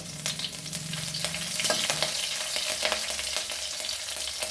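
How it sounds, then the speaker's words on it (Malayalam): Ginger and green chili fry in hot oil in a pan, giving a steady close sizzle with crackling pops and occasional stirring scrapes throughout, with no talking. "ഇഞ്ചി ഇട്ട് കൊടുത്തു. ഇഞ്ചി ഒന്ന് മൂക്കട്ടെ"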